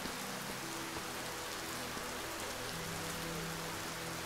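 Steady rain pours in the low-poly RPG dungeon crawler Raidborn, a dense, even hiss of falling drops on surfaces with a faint low tone beneath, constant and unbroken.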